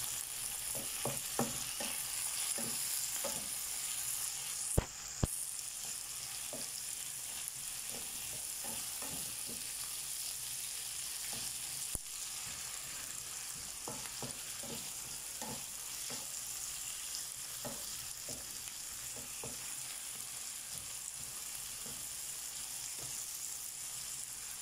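Tomatoes sauté in a hot pan for ampalaya with tuna, giving a constant sizzle broken by scattered clicks and scrapes of stirring and a sharp clank or two. No one speaks.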